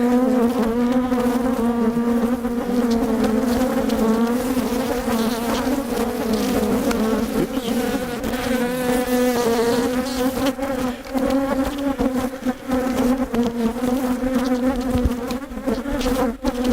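Loud, close swarm of honeybees humming at an open, healthy hive, a strong sustained buzz with wavering pitch that fills the whole stretch without pause or speech.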